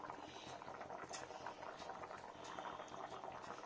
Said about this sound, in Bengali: দেখুন ফ্রেন্ডস কত সুন্দর ফুটছে।